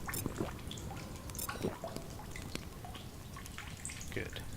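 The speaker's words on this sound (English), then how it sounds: "hear a dripping sound" Faint, scattered drips of water fall at irregular intervals inside the video game Solus Project, each a small sharp plink over a quiet background hiss.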